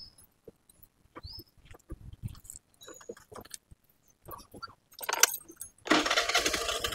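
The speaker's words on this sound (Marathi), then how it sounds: "लेफ्ट साईडला उभी केलो गाडी मी, तुम्हाला चालवून दाखवतो मी." A scooter being started and ridden: keys jangle and small clicks come first, then the engine catches and runs close by with a steady, noisy hum.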